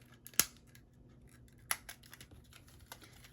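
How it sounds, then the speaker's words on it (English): Small tape runner being opened and its tape cartridge swapped, a few sharp close plastic clicks and snaps separated by quiet handling rustles. "I gotta change my tape on my little tape runner"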